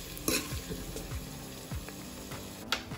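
Steady sizzling of onions frying in a pan toward light golden, with occasional stirring scrapes and clinks, close by and moderately quiet.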